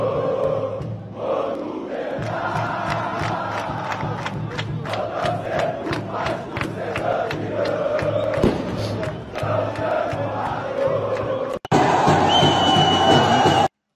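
A huge crowd of Vasco football supporters roars and chants at the airport for Payet's arrival, loud and sustained with rhythmic shouts, swelling into an even louder burst near the end.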